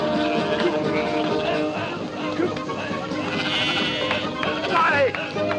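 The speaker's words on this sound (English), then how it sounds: "Get those sheep through!" A flock of sheep bleats repeatedly at a rural sheep station, overlapping calls blending with shouting voices, rustling movement and outdoor bustle as the animals are driven through.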